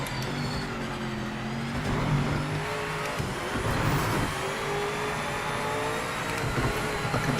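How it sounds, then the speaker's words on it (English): A GTE race car engine in the Project Motor Racing video game drones steadily and loudly with shifting revs and gear changes, no talking over it. "It's actually driving like a proper race car now."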